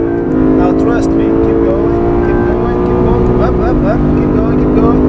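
A Lexus RC F V8 pulls at full power on a race track, its engine droning loudly and steadily with a strong harmonic tone shifting in pitch, while a voice talks over it.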